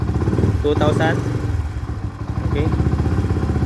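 A Yamaha Sniper 150 MXi motorcycle fitted with an Exos X6 pipe runs close by, its loud engine droning steadily at low revs while someone speaks over it.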